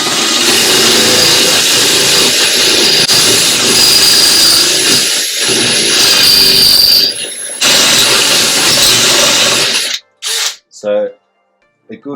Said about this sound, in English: then you can start drilling into the end of your handrail